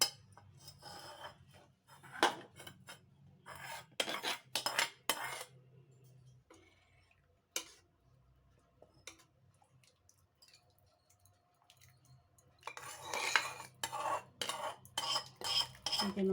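Tempering is stirred into a pot of drumstick leaf dal with a metal spoon, giving bursts of clinking and scraping at the start and again near the end, with a quieter stretch in between and no talk.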